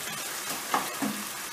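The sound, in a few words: tomato paste frying in oil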